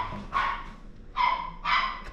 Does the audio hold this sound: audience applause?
no